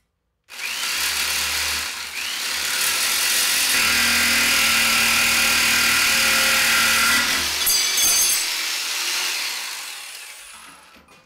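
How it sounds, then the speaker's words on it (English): A jigsaw cuts through aluminum stock in a DIY build of video lights: a loud, close, high-pitched buzzing rasp that starts abruptly, holds steady for several seconds with a shrill metallic whine, then trails off as the blade stops. "we'll use the jigsaw to cut the aluminum"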